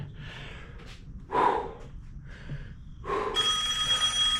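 A telephone rings in a home workshop while a Stihl FS56RC weedeater is being repaired, with heavy breathing and sighs close by and a ringing tone rising toward the end.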